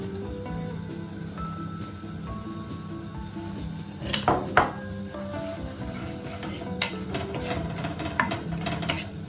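Onions fry in a hot pan for a crustless low-carb quiche, a soft steady sizzle broken by a few sharp clatters of a utensil stirring and scraping the pan.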